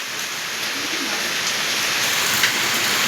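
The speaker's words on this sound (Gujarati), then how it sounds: "તો વરસાદ આવતો તો ફૂલ ઓન વરસાદ આવે છે." Heavy rain pours steadily, a dense even hiss of drops on surfaces, close and continuous with no talk.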